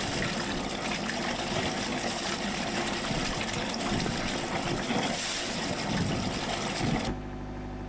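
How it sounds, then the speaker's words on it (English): Cooling water gushes steadily from a boat engine's exhaust at the stern, a continuous loud splashing rush over the engine's low rumble, stopping abruptly near the end. "check that there is water coming out of the exhaust system"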